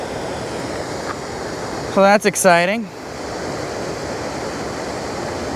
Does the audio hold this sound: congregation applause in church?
no